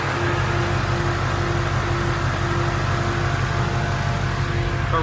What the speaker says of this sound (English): Powered by Ford, hand-built GT350 Voodoo engine.